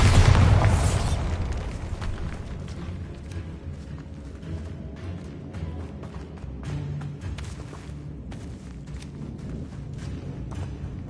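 A Bombarda blasting spell explodes in Hogwarts Legacy with a loud, close boom at the start that fades into a long rumbling tail and steady game ambience.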